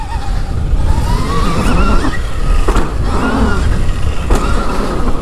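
A Stark Varg electric dirt bike ridden on a motocross track in a low-power mode, its motor whining in rising and falling pitch against steady loud wind and ground rumble, with a couple of sharp knocks along the way.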